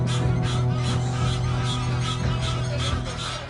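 Geese honking in a rapid, repeated series of nasal calls while attacking a baboon to protect their eggs, loud and close with a steady low background hum.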